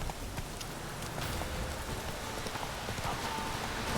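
Hooves of the horse Roach galloping in a video game, a steady drumming clip-clop running throughout at moderate level over a faint rain-like hiss, with no talking.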